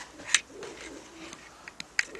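Pigeons inside an abandoned mill give soft, low coos, faint and intermittent, punctuated by a few sharp clattering knocks in an otherwise quiet, hollow space.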